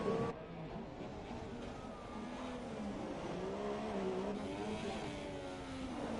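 An F1 car in F1 2017 at Monaco spins its wheels, its engine whining and rising in pitch as it accelerates, a steady moderate drone with no talk.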